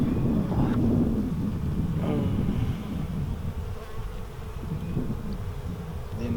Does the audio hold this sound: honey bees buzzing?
yes